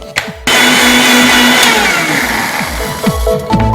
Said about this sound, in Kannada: ಇದಕ್ಕೆ ಒಂದು ಸ್ವಲ್ಪ ಹಾಲು ಹಾಕ್ಕೊಂಡು ಇದನ್ನು ರುಬ್ಕೋತೀನಿ